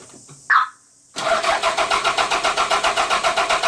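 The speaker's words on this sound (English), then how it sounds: "the engine doesn't fire because there's now no spark" A Toyota MR2 engine cranks on the starter without firing because it has no spark, a steady rapid rhythmic churning of even compression pulses, close and loud, following a brief click and a short pause.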